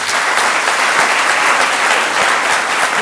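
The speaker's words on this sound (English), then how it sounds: "Let's give him a round of applause." An audience at a law lecture applauds in a steady, dense patter of many hands clapping, loud and sustained for the whole stretch.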